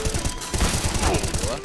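Gunshots in the Counter-Strike video game sound in a loud, rapid burst of sharp cracks that repeat through the short clip, with a voice faintly in the background.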